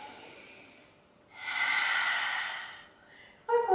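During a Pilates exercise, a person breathes out in one long, audible exhale. A fainter breath comes before it and a short noise follows, all near and quiet, with no talking.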